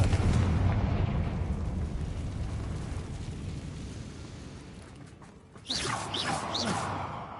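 A Confringo fire spell explodes in Hogwarts Legacy, a loud sustained rumbling blast that slowly fades, followed by a fresh burst of crackling, whooshing magic effects.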